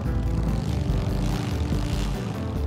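A fully modified Bullet motorcycle in GTA 5 revs with a steady, loud, continuous engine drone, deep rumbling harmonics held throughout with no pauses.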